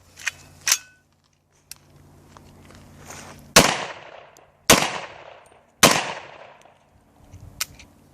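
Gunshots at an outdoor shooting range firing Leatherhead bullets: several loud sharp reports, each with a ringing decay, spaced a second or more apart, alongside quieter clicks and handling noises.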